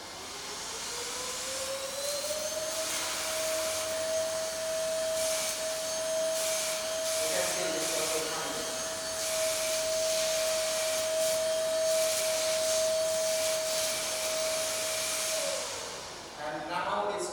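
An INGCO cordless vacuum cleaner runs steadily at close range with a high, constant whine and broad airflow hiss, sustained for about fifteen seconds before switching off.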